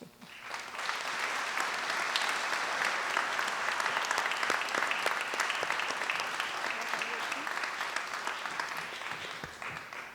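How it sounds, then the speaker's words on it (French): A ceremony audience applauds an honoree with loud, sustained clapping that holds steady for about ten seconds before tapering slightly, with a voice faintly present beneath. "faites du bruit pour Dorothy Rowe"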